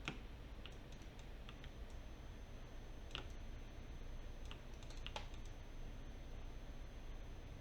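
Faint, sparse computer keyboard key presses and clicks, single taps and short quick bursts over quiet room hiss.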